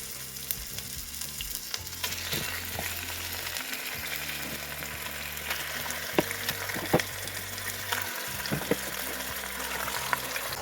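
Steady frying sizzle of chicken wing marinade in a multicooker, continuous and close, with occasional stirring clatter and scrapes.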